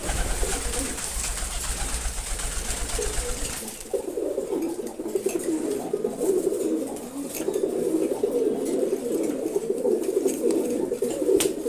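Male Giribaz racer pigeons cooing nearby, a low rolling purr that grows fuller and more continuous after a few seconds, with a brighter hiss in the background at first.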